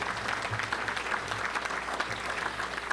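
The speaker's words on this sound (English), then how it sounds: "Let's give them a round of applause for being here today" A short burst of steady audience clapping at a Little Rock Touchdown Club luncheon, moderately loud and continuous for a few seconds with no voices over it.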